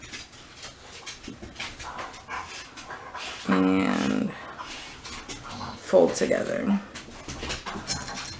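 Dogs play and pant in the background while a person keeps talking, with a couple of louder bursts of whining and scuffling mixed in.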